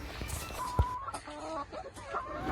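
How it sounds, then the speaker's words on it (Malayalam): Native village chickens cluck in a few short, scattered calls at close range, with one brief thump early on against a quiet rural background. "ഇവിടെ നാടൻ കോഴികളെയും വളർത്തുന്നുണ്ട്"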